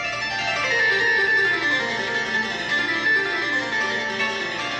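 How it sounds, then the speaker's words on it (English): Bright, metallic harpsichord notes, strings plucked by quills, ring out in a steady stream of overlapping tones, loud and close with no voices. "The harpsichord has a very metallic sound because a small quill plucks the string"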